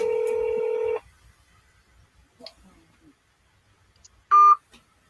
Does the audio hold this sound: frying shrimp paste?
no